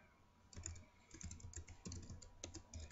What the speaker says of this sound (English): this is what typing is all about